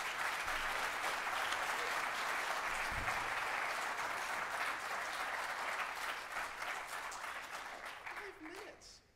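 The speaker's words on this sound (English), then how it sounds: "Thanks for the applause." Sustained audience applause fills a hall at the close of a DrupalCon conference talk in New Orleans, dense and steady before gradually thinning out toward the end, with a brief voice near the finish.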